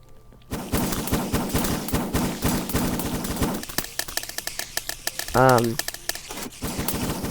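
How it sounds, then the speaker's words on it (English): A flamethrower-style gun from the Minecraft PVPGuns plugin fires in a fast, continuous stream of sharp, evenly spaced bursts like a machine gun, stopping briefly and resuming, with a short tonal game sound in between. "if you just hold down, it's basically like a machine gun in order to get the effect that it's just continuing to spray out"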